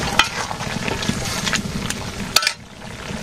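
Garam masala and cumin paste hitting a hot frying pan in a Bangladeshi village kitchen, a steady sizzle with a couple of sharp clatters and a brief drop in the frying noise near the end.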